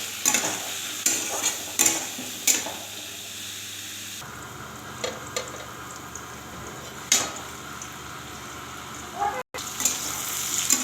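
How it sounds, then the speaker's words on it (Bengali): Vegetables with salt, cumin, turmeric and green chillies are mixed in a pan, a spoon scraping and tapping the metal in separate strokes over a low sizzle, close and fairly quiet. "এটাকে ভালো করে মিশিয়ে ঢাকা দিয়ে দেব"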